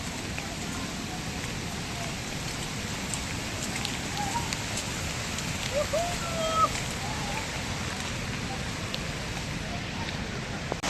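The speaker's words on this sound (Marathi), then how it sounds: "त्याप्रमाणे खरंच पावसाचा जोर वाढला आहे" Heavy rain pelts a forest during a survival outing, a dense continuous patter close around, with a few faint bird calls in the middle.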